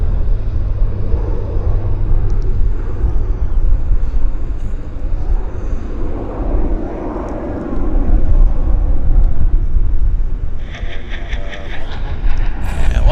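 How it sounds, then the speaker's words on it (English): A Central Mountain Air Beech 1900 cargo turboprop takes off at Vancouver Airport, a steady, loud broadband engine roar that holds throughout and swells near the end, with no talking. "Beach 1900, getting airborne."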